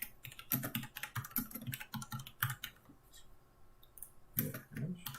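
Fast, close clicking comes from a computer keyboard as Python code is typed, with bursts of keystrokes and brief pauses while someone talks over it.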